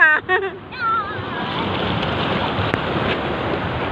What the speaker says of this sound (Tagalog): Lakas ng alon guys, oh, grabe.